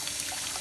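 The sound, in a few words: lukewarm water poured from a shower head onto salty soil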